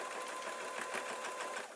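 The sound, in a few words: sewing machine stitching a pillow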